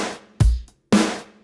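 Two sharp snare drum hits with a chamber sample blended in, each with a bright, sizzly decay, the second following about half a second after the first.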